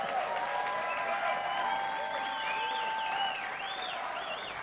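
Steady applause from a live audience of several hundred people, even and sustained at moderate loudness, with voices faintly mixed into the clapping before it thins toward the end.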